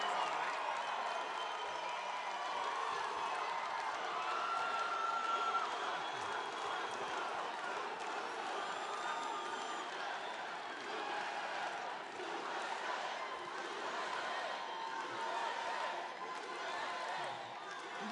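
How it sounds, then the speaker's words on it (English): A loud, rowdy crowd at an outdoor political rally in Tucson, Arizona, cheering and applauding steadily and densely throughout, with a continuous wash of clapping and shouting and no pauses. "This is a very rambunctious crowd."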